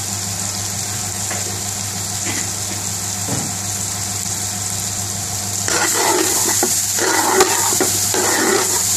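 Spices, including garam masala, sizzle in hot oil in a pan for a Bengali-style aloo gosht meat and potato curry. A steady close fry hiss runs throughout, joined partway through by scraping, clattering stirring.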